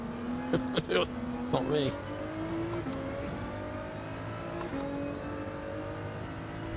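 A red Ferrari race car in Gran Turismo 7, played in VR on PSVR 2, drones and revs steadily with a few sharper bursts as it passes, mixed under a voice talking.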